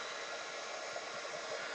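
A hair dryer blows over a wet art journal page with a steady, close, breathy whoosh that holds an even level and has no voices.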